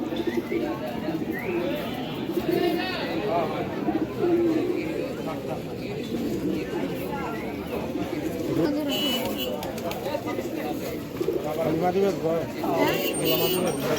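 Pigeons coo in soft repeated low notes at the busy Ruhitpur pigeon market, heard beneath constant crowd chatter and nearby voices, with occasional clatter.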